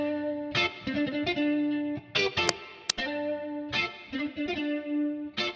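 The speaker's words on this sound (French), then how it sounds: "Donc là, on a un petit effet de chorus." Synth and plucked tones pass through a chorus effect from the Valhalla Supermassive delay plugin, giving a shimmering, widened, slightly detuned sound with echoing repeats over a rhythmic musical phrase.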